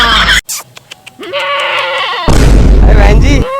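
Goat bought for Bakra Eid sacrifice bleating in a wavering, sustained cry after a brief pause, followed by a loud burst of noisy, harsh sound; close and prominent, with no talk over it.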